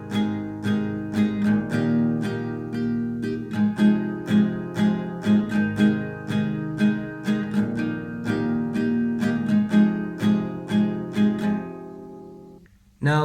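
Acoustic guitar strumming the intro of a song in a steady rhythm, a run of bright repeated chords ringing out before fading at the end.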